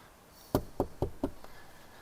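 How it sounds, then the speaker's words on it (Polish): Knuckles knocking on a garage door, four sharp raps in an even rhythm, close and loud, with nothing else heard. "Zamiast śmietnika pukam do garażu."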